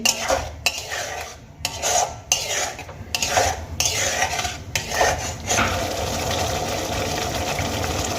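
Mustard paste being mixed with spices in a pan for a fish curry, with repeated scraping and stirring strokes of a utensil against the pan, then a steadier sizzling wash.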